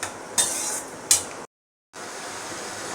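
Shrimp frying in oil in a pan while being stirred, a steady hiss of sizzling broken by two metallic scrapes of a utensil, then a brief silence before the sizzle resumes.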